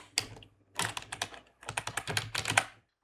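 Keys clatter on a computer keyboard in two quick bursts of typing separated by a short pause, crisp and close with no voices.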